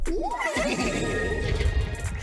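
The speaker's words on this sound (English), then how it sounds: "The horse neighs are the best part of this event." A horse neighs and whinnies in a Destiny 2 30th Anniversary event video game, a loud rising and falling call filling the short clip over game ambience with faint hoofbeat-like thumps.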